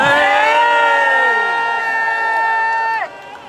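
An outdoor rally crowd cheering loudly together in a sustained roar of voices and whoops that cuts off sharply after about three seconds.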